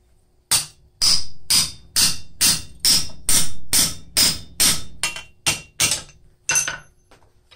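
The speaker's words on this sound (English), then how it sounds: "Let's drift this thing." About fourteen sharp metallic hammer blows ring out at a steady rhythm as a blacksmith drifts a hole through hot steel, each strike loud and close with a brief ringing decay.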